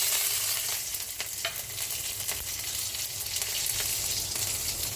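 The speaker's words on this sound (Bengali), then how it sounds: "সর্ষে লঙ্কা ভাজা হয়ে গেছে" Mustard seeds and chillies frying in hot coconut oil in a very hot kadai, giving a dense, steady close-up sizzle with scattered crackles and pops throughout, no voices.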